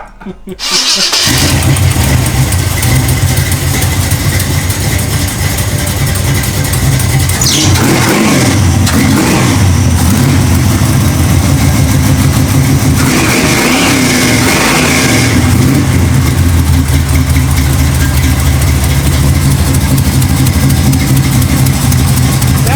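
Cammed C5 Corvette V8 with a possible exhaust leak fires up and settles into a loud, lumpy idle, with a couple of rising revs partway through; voices talk faintly under the engine.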